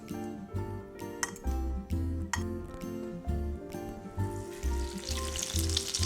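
Stuffed rabanada, bread soaked in milk and egg, frying in hot oil, a close crackling sizzle that swells in bursts with occasional light clinks, no voices over it.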